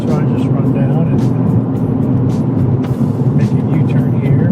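A BMW F30 car driving during a road test while making a U-turn, a loud steady engine and road-noise rumble inside the cabin with someone talking over it.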